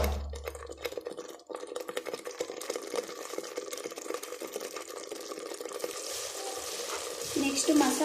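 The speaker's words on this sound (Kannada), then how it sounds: "ಈರುಳ್ಳಿ ಟೊಮೆಟೊ ಒಳಗಡೆ ಹಾಕೋಣ. ಸ್ವಲ್ಪ ಚೆನ್ನಾಗಿ ತಿರುಗ್ಕೊಳ್ಳೋಣ" Onion and tomato sizzling in a pan for drumstick sambar, with a spoon stirring through them; a steady soft frying crackle with scraping, fairly close.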